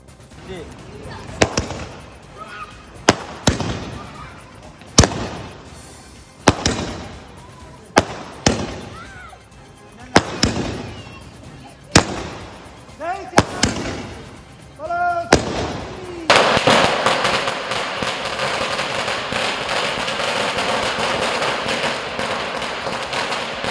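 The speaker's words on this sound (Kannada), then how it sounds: "ಚಿಕ್ಕಬಳ್ಳಾಪುರದಲ್ಲಿ ಸುಧಾಕರ್ ಅಭಿಮಾನಿಗಳು ಪಟಾಕಿ ಸಿಡಿಸಿ ಸಿಹಿ ಹಂಚಿ ಸಂಭ್ರಮಿಸಿದ್ದಾರೆ." Firecrackers bursting at a political supporters' celebration in Chikkaballapur: a regular series of loud, sharp bangs about a second apart, each with a decaying echo, giving way to a continuous crackling roar of rapid bursts.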